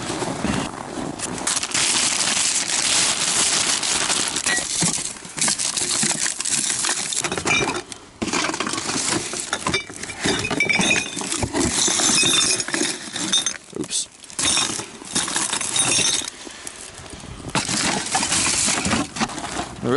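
Glass pieces clink, clatter and crunch as they are picked up from outdoor trash in cold, wintry weather, a loud, dense and nearly continuous rattle with brief pauses.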